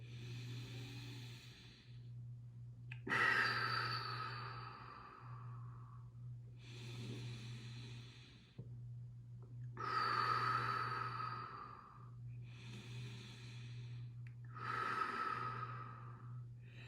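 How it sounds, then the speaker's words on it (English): Slow, deep breaths during a yin yoga class, with long inhales and exhales repeating in a calm rhythm about every three seconds, close and soft over a low steady hum. "you're watching yourself breathing all the way in, all the way out"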